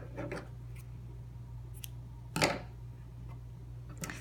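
Scissors snip embroidery thread in a few sharp, close cuts, with one louder clean snip in the middle and quieter clicks before and after, over a low steady hum.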